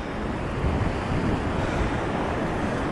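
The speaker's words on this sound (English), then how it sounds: "The winds are still pretty strong." Strong wind blowing along England's south coast, a steady loud roar buffeting the microphone with a faint surf-like wash underneath, and no voices.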